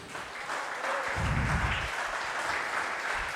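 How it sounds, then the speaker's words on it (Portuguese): A church congregation at a praise and worship service claps together, a soft, steady spread of applause from a sizable crowd, somewhat distant, swelling briefly with a low rumble partway through before settling. "Você pode aplaudir o nome dele mais uma vez?"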